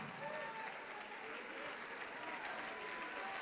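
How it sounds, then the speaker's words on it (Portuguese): A church congregation applauds during a service, a dense, even wash of clapping from many hands heard at a distance and fairly faint throughout. "Vamos aplaudir, igreja."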